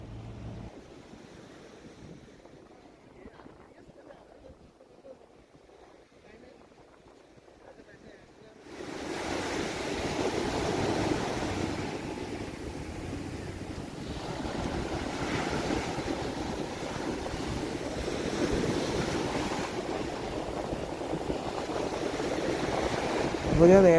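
Ocean waves at Kovalam beach in Kerala start as a low distant murmur, then surge into loud, continuous surf with rushing wind buffeting the microphone.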